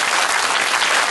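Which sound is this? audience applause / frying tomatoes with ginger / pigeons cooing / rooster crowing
audience applause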